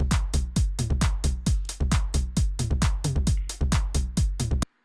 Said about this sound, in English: I'll put a clap on two and four just so we can get like the feel of a backbeat going on a little bit more.